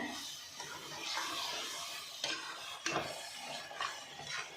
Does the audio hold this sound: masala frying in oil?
yes